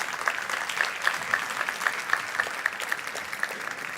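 Audience clapping at an indoor UNESCO forum on racism and discrimination, a fairly faint, dense patter of many hands continuing steadily without voices.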